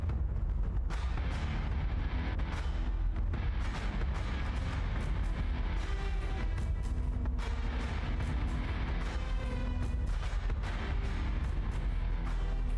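Battlestar Galactica Deadlock spaceship fleet guns firing continuously, a dense barrage of heavy booming cannon shots and rapid gunfire layered over a constant low rumble, loud and unbroken throughout.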